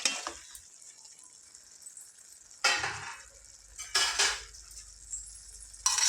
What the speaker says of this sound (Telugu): వీటిని ఇలా స్లోగా కలుపుకోవాలి ఇది నిదానంగా ఇలా కలుపుకుందాం